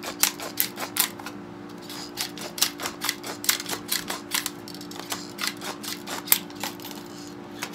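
Repeated sharp snips of scissors cutting through a thin aluminium soda can, about two dozen crisp clicks in an irregular rhythm, close and clear over a faint steady hum.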